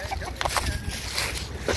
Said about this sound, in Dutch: Kippen.